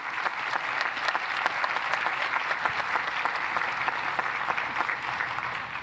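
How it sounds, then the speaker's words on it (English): A large audience applauds steadily at a university commencement ceremony, a dense, sustained wash of many hands clapping that holds evenly throughout with no talking over it. "I'd like to just recognize them with a round of applause"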